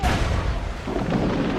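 A ship's cannons fire a broadside in Assassin's Creed 4 Black Flag, a dense rolling series of deep booms merging into one continuous thunderous rumble, close and loud.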